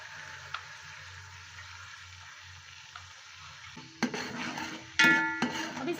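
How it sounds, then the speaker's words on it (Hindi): Onion paste frying in a pot, a steady low sizzle that bursts louder near the end as a spoon scrapes and stirs with metallic clinks against the pot. "अब इस प्याज को हम थोड़ी देर पका लेंगे कि इसका कलर चेंज हो जाए। प्याज जो है वो पक रहा है।"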